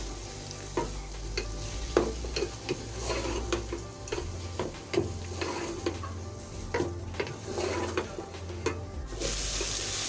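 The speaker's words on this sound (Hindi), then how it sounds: "इन सबको थोड़ा भून लेंगे।" Okra with crushed chillies fries while a spoon keeps stirring through it, giving close scrapes and taps over a steady sizzle and a low hum, with no voices.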